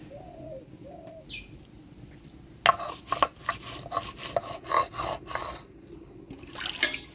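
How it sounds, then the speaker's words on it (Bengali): Cumin being ground into a paste by hand, a rhythmic series of close, gritty rubbing and knocking strokes, preceded by a few quiet bird calls and coos in the background. "এবার জিরাটা বেটে নিব"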